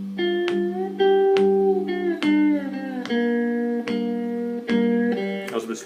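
A three-string cigar box guitar plays a short slide phrase of plucked notes with gliding pitch bends, played in a quick rhythmic run at moderate volume, close up with no speech.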